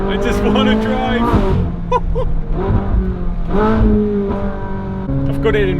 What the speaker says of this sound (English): in race mode, the flaps and the exhaust open much sooner